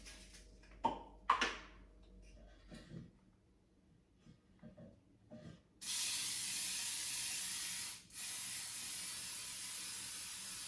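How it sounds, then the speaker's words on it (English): Pam baking spray with flour hisses out of its can into a cake pan in two long bursts separated by a brief pause, loud and close after some quiet handling noises. "I'm going to spray it generously with the Pam baking made"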